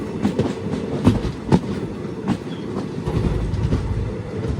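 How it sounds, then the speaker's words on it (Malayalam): Passenger train rolling into Kumsi station on the Talguppa–Shivamogga line, a steady rumble punctuated by sharp rhythmic clickety-clack wheel beats over rail joints, heard close from aboard. "ട്രെയിൻ ഇപ്പോൾ കുംസി എന്ന സ്റ്റേഷനിലേക്ക് എത്തുകയാണ്"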